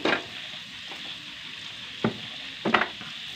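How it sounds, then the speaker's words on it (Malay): Kaffir lime leaves and lemongrass frying in hot oil for an Acehnese anchovy dish, a steady sizzle with a few louder crackling bursts as the pan is stirred. "Kemudian masukkan jeruk purut dan serai. Ini kita goreng sampai layu."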